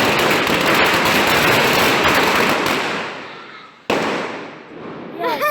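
Fireworks and rockets burst in a dense, loud crackling barrage that thins and fades, then one sharp bang restarts a shorter crackle, with a voice briefly calling out at the end.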